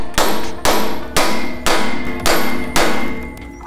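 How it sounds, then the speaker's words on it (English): A hammer strikes a socket set over the castle nut of a truck's ball joint knuckle, landing six sharp metallic clangs in a steady rhythm about half a second apart, loud and close, with no talking. "You can try tapping on the ball joint itself or on the knuckle."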